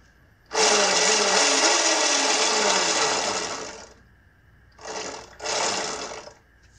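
Electric motor of a Razor E200 scooter spun by a twist throttle, a loud whirring buzz for about three seconds, then two shorter bursts, close up with no talk.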